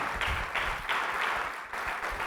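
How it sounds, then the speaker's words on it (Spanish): A church congregation applauds at a Spanish-language sermon service, loud continuous clapping with rhythmic surges, heard in a large room without speech. "Dele un aplauso al Señor ahí donde está."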